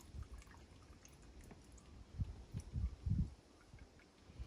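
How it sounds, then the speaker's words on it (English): Dish liquid pouring into a 5-gallon bucket of rainwater, soft dribbling at first, then a few louder glugging splashes toward the middle before it tapers off, close by with no talk. "I am going to go ahead and I'm going to add my dish liquid."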